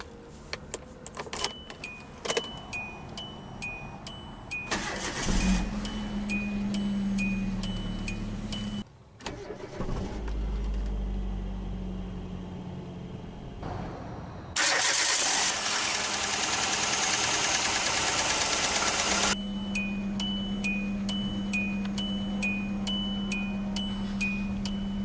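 A 2005 Hyundai Accent's engine cranks and catches, then settles into a steady idle. Keys jingle and a repeating chime beeps before and after, and there are several separate start and stop sections.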